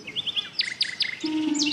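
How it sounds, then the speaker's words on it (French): Bright, quick bird chirps from a flying bird in the accessible video game Sonar Islands repeat in short bursts, then a steady tonal whistle holds near the end, clear and close with no talking. "avez-vous entendu l'oiseau voler?"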